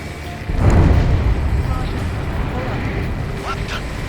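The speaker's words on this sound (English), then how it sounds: "A huge explosion just went off underwater." A large underwater explosion in the combat flight game Ace Combat 7 bursts loudly as a deep rumbling boom, then fades into a sustained low roar with faint tonal game sounds.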